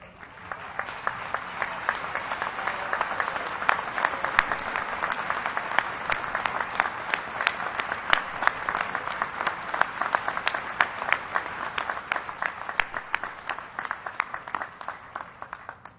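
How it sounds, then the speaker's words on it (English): Graduates applauding faculty and instructional academic staff at a fall graduate-school commencement ceremony, steady sustained clapping from a large crowd with sharp individual claps standing out, continuing at an even level for the whole stretch without talk. "give you a round of applause."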